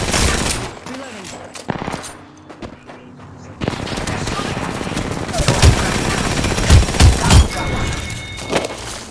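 Gunfire in the Apex Legends video game: rapid bursts of automatic weapon fire and heavy booms, loud and close, mixed with game effects, with a player speaking now and then.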